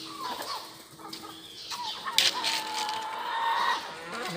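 Chickens cluck and squawk nearby in scattered bursts, with a few higher calls and a drawn-out cackle toward the end.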